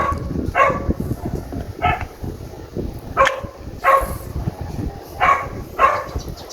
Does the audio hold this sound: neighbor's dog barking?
yes